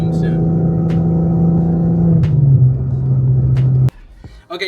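An MK4 Volkswagen Jetta with a VR6 engine drones steadily while driving, a loud continuous hum with a slight pitch drop midway before cutting off sharply near the end.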